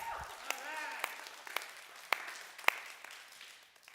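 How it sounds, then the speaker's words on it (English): A church audience claps in a thin, scattered way, a handful of distinct sharp claps spaced about half a second apart, with voices speaking over them in a quiet room. "Yeah, let's clap for Cody."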